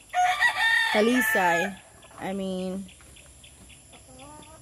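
A rooster crows loudly and close among gray brood hens, followed by a second crow and softer clucks, with someone speaking briefly at the end.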